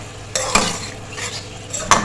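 Masala with dry coriander and roasted crushed cumin frying in oil, stirred with a spoon: a close, continuous sizzle broken by a few sharp scraping clinks against the pan.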